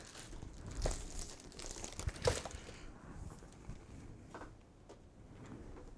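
Fresh paper is crumpled and handled close up, with crisp crinkling bursts and scattered rustles at a modest level and no talking.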